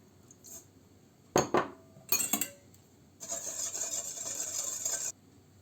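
A spoon scrapes and clinks against a bowl while yeast and sugar are stirred into warm milk, in a few short sharp strokes followed by a longer, steady rasping stir.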